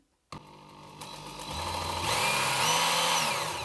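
A mini grinder knife sharpener for knives, scissors and tools starts with a click and spins up to a steady, loud, high-pitched whine that rises in speed partway through.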